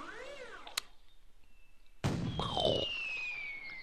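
Explosion in a cutscene of the video game Viva Piñata: Trouble in Paradise: a sudden loud burst halfway through, ringing with a bright sustained hiss and tone after an earlier whooshing, sparkly effect and a sharp crack.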